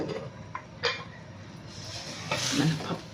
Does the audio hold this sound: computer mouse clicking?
no